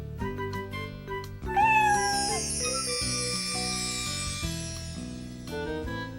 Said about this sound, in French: Caillou pouvait garder son petit chat.